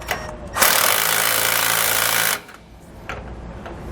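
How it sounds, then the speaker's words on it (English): A power tool driving a 9/16 socket rattles loudly in a steady burst of about two seconds as it snugs suspension bracket bolts for helper springs on a 2004 Workhorse motorhome, then it stops and faint clicks follow. "Then I want to come back with a 9/16 socket, and I'm just going to snug these up."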